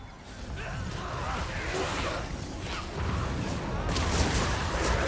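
Cannon fire in the Total War: Warhammer 2 battle game, a steady barrage of dense booming shots and crashes under a roaring wash of battle noise that swells louder near the end, with no clear speech.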